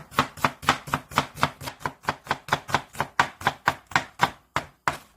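A small onion is sliced with a knife on a cutting board for japchae, giving about twenty crisp, evenly spaced chops in a steady rhythm, close and clear with no talk.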